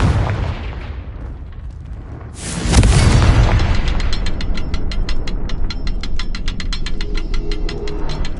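A Confringo blasting spell explodes in the video game Hogwarts Legacy, a sudden loud boom about a third of the way in, followed by a crackling, ticking mechanical rattle that lingers to the end.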